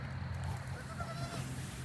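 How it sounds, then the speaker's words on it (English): Goats bleat outdoors while grazing, faint and somewhat distant over a steady background hum, with no talk. "Watching the goats graze a little bit"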